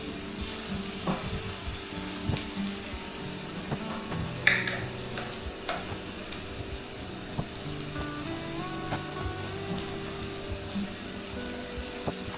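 Battered stuffed eggplant slices sizzle in hot frying oil in a home kitchen pan, a steady close crackle with scattered pops and a few light utensil clinks, no voices.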